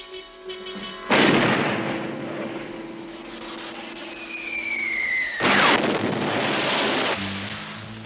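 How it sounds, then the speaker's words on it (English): Two heavy cannon blasts boom out seconds apart, each a loud sudden burst that rumbles and fades into a whistling, airy tail. "you aim that cannon at night?"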